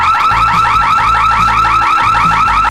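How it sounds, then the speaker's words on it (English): A security system alarm goes off with a loud, rapid warbling siren that cycles up and down steadily for several seconds. It plays alone, with no voices, and stops abruptly at the end. "And maybe even some random security system alarms or two."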